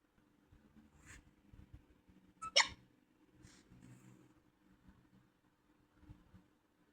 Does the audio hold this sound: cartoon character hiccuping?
yes